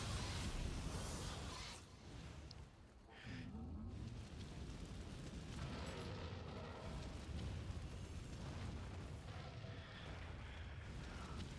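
Cannons fire in the video game Nioh 2. Faint, rumbling explosive blasts roll one into another, dip briefly into a lull, then return as a sustained, booming wash.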